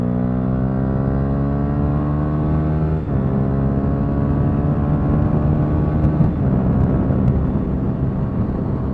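A motorcycle accelerates hard through clutchless upshifts, its engine whine climbing in pitch, then dropping sharply at two quick gear changes before rising again, loud and close with no talk.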